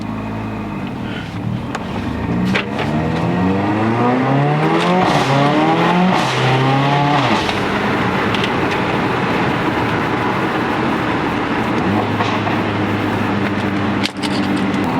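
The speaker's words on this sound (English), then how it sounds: "Welcome inside my cla45 AMG, which is stage 3." Stage 3 tuned Mercedes CLA45 AMG accelerating hard from inside the cabin, its engine note climbing steeply through gears with sharp shifts, then settling into a loud steady drone.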